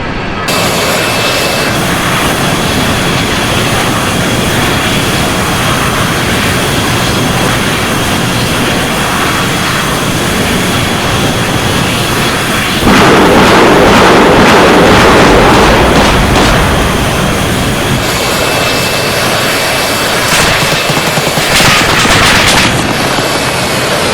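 A-10 attack jet in the video game Arma 3 making a loud attack run, a sustained jet engine roar overlaid by a long burst of rapid cannon fire midway, with further gunfire later.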